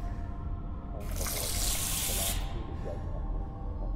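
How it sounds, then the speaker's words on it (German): Water runs from a metal sink tap in the game Stasis, a bright steady gush that starts abruptly, flows for about a second and a half, then cuts off over a low humming ambience. "Wasser läuft noch."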